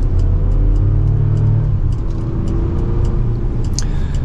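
A Chevrolet Colorado ZR2 Bison pickup truck accelerates gently on a road with a steady, loud engine rumble and a low drone that rises slightly, heard from inside the cab.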